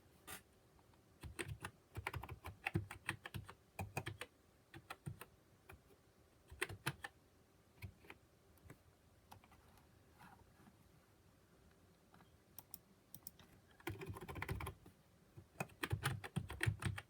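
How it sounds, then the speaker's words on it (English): Steady bursts of typing on a computer keyboard, with rapid clustered keystrokes, short pauses between runs and a flurry of keys near the end, close and clear with no talk. "Let's go ahead and type in Einstein quotes."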